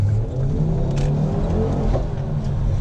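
A Ford Focus RS engine revving and pulling hard under acceleration, a steady loud drone close to the microphone with no talking.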